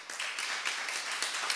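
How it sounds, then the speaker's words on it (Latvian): Audience applause fills a hall: a dense, steady patter of many hands clapping at moderate volume, with no voices over it. "Tagad šī zāle aplausus dod tikai."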